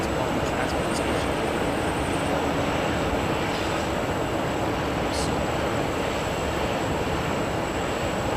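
An Airbus A380 jet airliner at Anchorage airport produces a loud, continuous engine roar, close and unbroken throughout, with faint high whines above it.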